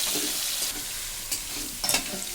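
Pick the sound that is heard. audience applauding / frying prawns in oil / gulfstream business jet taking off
frying prawns in oil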